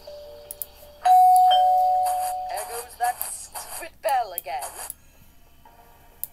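A bright electronic doorbell chime rings out in the game Scary Teacher 3D, a sustained tone followed by a few quick clinking notes, fairly loud and close with light game sounds around it.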